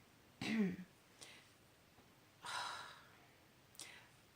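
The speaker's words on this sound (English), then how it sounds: "I cough constantly" A few short throaty bursts, a cough and a couple of throat clearings, spaced apart with quiet pauses between them, close to the microphone.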